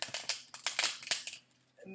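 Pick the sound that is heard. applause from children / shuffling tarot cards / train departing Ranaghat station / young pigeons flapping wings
shuffling tarot cards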